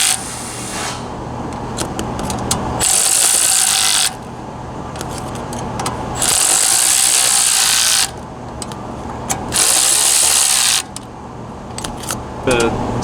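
Bursts of a power tool snug down the exhaust bolts on a CFMOTO UFORCE 1000 side-by-side, coming in several whirring spells of a few seconds each, close by, with pauses and light handling noise between them.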